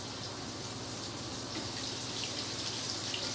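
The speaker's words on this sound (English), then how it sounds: "Rinse our hands." Tap water runs steadily into a sink while hands are rinsed, a continuous soft splashing hiss that stays even throughout, fairly quiet and close with no talking.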